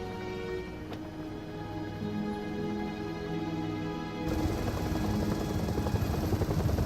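Helicopter in the video game Resident Evil 7, a continuous heavy rotor drone that runs steadily throughout and grows louder and harsher partway through, with no voices over it.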